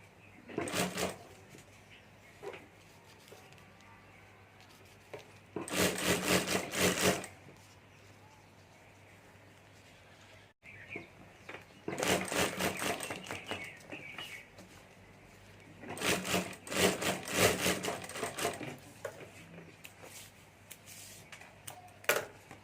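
Sewing machine stitching a hand bag, several bursts of rapid rattling stitching separated by quieter pauses, close by.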